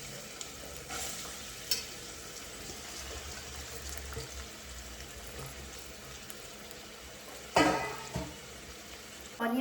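Onions fry in hot oil with a steady, moderate sizzle, punctuated by a few louder scraping stirs of the pan near the end.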